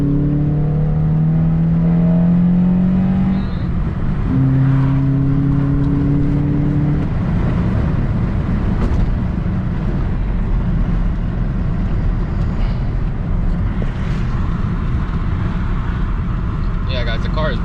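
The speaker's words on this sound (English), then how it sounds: "the car is pulling hard" A 2008-12 Honda Accord fitted with a cold air intake accelerates hard, its engine note climbing through two pulls before giving way to steady road and wind roar.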